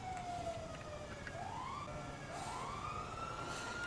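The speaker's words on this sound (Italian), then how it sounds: "Secondo me le sirene e l'audio è molto forte, possono essere anche più lontane del previsto." Police sirens wail in the GTA 5 video game, rising and falling sweeps sounding somewhat distant over a steady background rumble, with no talking.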